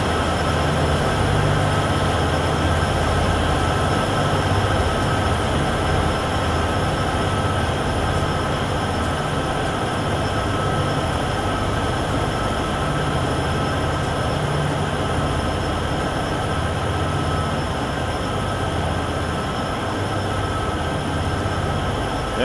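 A long freight train climbs a hill between Cheyenne and Laramie in Train Sim World, pushing locomotives at the rear, producing a steady, loud droning engine rumble with a sustained hum that runs unbroken throughout.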